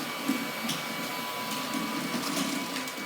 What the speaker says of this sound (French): et là je passe en un seul passage, j'aspire et je lave.